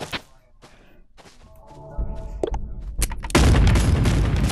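A rocket launcher in the VR game Animal Company: several sharp thuds and booms build into a loud, sustained blast near the end.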